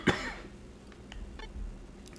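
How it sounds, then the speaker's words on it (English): A single sharp, close cough bursts out at the start, followed by a quieter throat sound and faint room noise with a few soft clicks. "Wow, this cough is not gonna let me go."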